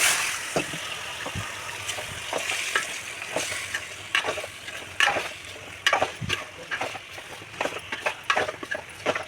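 Ginger paste stirred and fried in a pan, later with salt and turmeric, sizzles steadily while a spoon scrapes and knocks in irregular close taps over the continuous hiss.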